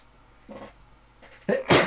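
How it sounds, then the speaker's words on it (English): A person sneezes during a casual indoor chat: a small build-up breath, then a sharp, loud close-up burst near the end. "I need to sneeze."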